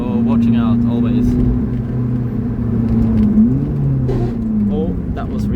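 A Lotus Elise on a mountain road hums with a steady engine drone; partway through, the pitch dips and a short grinding crunch marks a botched gear change before the engine note settles again.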